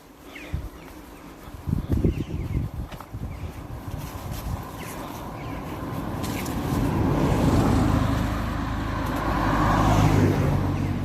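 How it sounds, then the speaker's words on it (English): A car swings out to overtake blind on a roadside bend, its engine and tyre roar swelling from faint to loud over steady traffic noise, heard from the verge by someone on foot. "Blind overtaking on the bend there."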